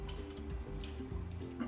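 Water pours steadily through a strainer while making kombucha, a continuous close splashing and trickling stream with no speech.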